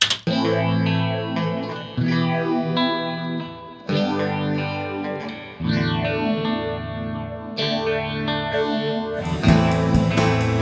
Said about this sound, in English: One is a phaser guitar and one is just a picking guitar.